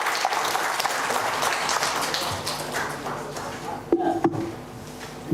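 An audience at a national AI summit for placement officers applauds in a steady round of clapping, thinning toward the end with a few isolated knocks and a brief voice.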